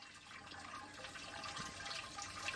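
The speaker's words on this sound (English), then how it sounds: "from the sparge here out of the Grainfather 40 litre sparge heater is actually flowing fast enough" Hot sparge water runs steadily from a Grainfather 40 litre sparge heater during a home-brew IPA brew day, a soft continuous splashing flow heard close with no talk.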